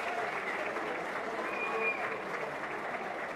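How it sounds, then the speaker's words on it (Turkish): Football fans at an Isparta versus Serik Belediye match applaud two substituted players, a steady, dense crowd clapping that fills the whole stretch, with a commentator's voice faintly beneath it. "Sparta taraftarı iki oyuncuyu da alkışlayarak gönderdi"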